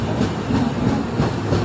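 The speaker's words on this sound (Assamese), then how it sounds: "একফালে মানে গাড়ী গৈ আছে আৰু একফালে মানে ৰেলখন গৈ আছে" A train crosses the Farakka bridge at night with a loud, steady rolling rumble and rhythmic clickety-clack of wheels over rail joints, heard close and alone.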